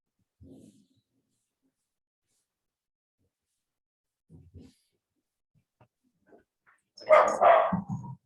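A dog barks indoors: a few faint, scattered low sounds give way to a loud, close burst of barking near the end.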